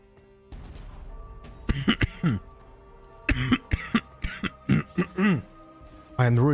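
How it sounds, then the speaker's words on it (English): Several short coughs and throat clears in bursts, close and fairly loud, with pauses of quiet between them during a live game stream. "I am really sorry for the cough."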